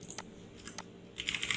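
Code being typed on a computer keyboard: a few scattered key clicks, then a quicker, denser burst of tapping toward the end, close and fairly quiet, with no one speaking.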